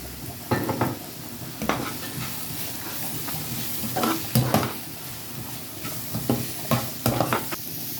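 Garlic and salt being stirred into a mixture frying in a pan, with a steady sizzle and irregular scraping stir strokes close by.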